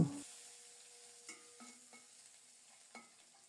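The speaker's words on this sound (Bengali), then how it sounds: "কয়েকটা চেপা শুটকি পরিষ্কার করে ধুয়ে গরম তেলে ছেড়ে দিলাম নেড়ে চেড়ে শুটকিগুলোকে খুব সুন্দর মতো ভেজে নেব" Chepa dried fish fry in hot oil, with a soft, faint sizzle and a few light clinks of stirring, quiet and close with no talking.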